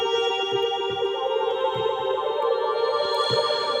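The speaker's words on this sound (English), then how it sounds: "we'll start with that glass pad sound" A shimmering, bright glass pad patch on a Studiologic Sledge synthesizer holds sustained tones with a glassy, bell-like sheen, steady and alone with no voices.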